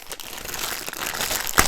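A plastic bag protecting a Diamond Art Club painting kit crinkles as it is handled, a continuous close, crackly rustle with a sharper crunch near the end and no talking.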